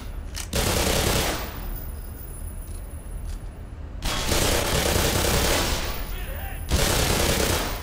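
Gunfire in Black Mesa: sustained bursts of loud rapid automatic fire, three long volleys separated by short quieter gaps.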